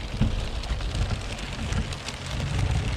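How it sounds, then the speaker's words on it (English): Heavy rain pounds steadily on the roof and windows of a car parked outside a Home Depot, a dense, close, continuous patter with no voices. "this is the rain that's happening"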